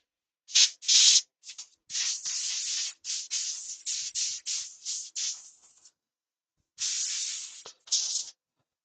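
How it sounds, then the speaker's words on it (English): Sanding a handmade Christmas decoration by hand: a series of short, close, hissing abrasive strokes in irregular rhythm, a pause, then a few more strokes, with no talking. "We just want to sand and seal that now then."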